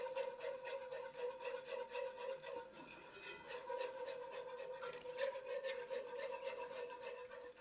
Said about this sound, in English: Just keep whisking. Whisk as fast as you can.